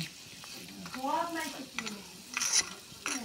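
Small egg-batter fritters with turmeric sizzle as they are dropped one at a time into hot oil on a stove, with clinking utensils and a voice talking over the frying.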